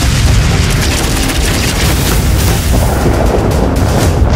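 Starship guns fire and explode in the space battle game Battlefleet Gothic Armada, Tau Empire fleet, a continuous loud rumbling barrage of deep booms and crackling blasts filling the whole clip.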